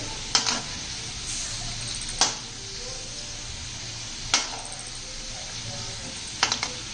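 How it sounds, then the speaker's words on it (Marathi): Modak frying in hot oil over a medium gas flame, giving a steady close sizzle with a few sharp ladle clinks against the pan. "हे पहा मोदक आपण तेलात सोडून घेतलेला आहे। छान असं मध्यम गॅसवर तळून घ्यायचे।"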